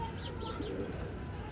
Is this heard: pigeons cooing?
yes